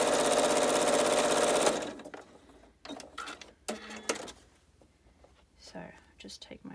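A sewing machine stitches over bulky quilt seams in a fast, dense, even whir that runs loud and close for under two seconds, then stops, followed by quiet handling clicks and rustles.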